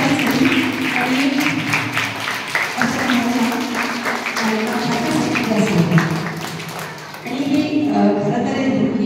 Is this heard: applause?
yes